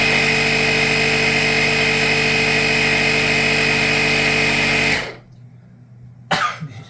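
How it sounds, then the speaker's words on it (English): The air compressor built into a portable battery jump starter runs with a loud, steady motorized buzz for about five seconds, then shuts off, followed by quiet and a brief clunk near the end. "this is also a compressor"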